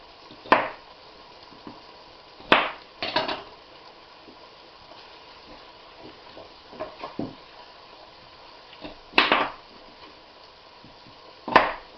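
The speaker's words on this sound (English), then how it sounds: "I'm just gonna cut the potatoes and put them into a bowl with some salt, water." A knife chops through potatoes on a cutting board, several sharp, close knocks spaced irregularly with quiet pauses between them, no voices over the cuts.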